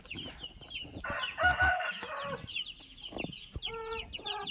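Roosters crow on a farm in Kadapa, where two cockerels are offered for sale, with several overlapping cock-a-doodle-doo calls and clucking heard near and loud, one crow after another.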